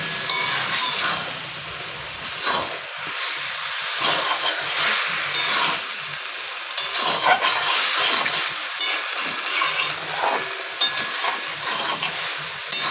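Boiled spinach stirred in a hot pan, a steady sizzling hiss with repeated scraping strokes throughout, close and fairly loud, no voices.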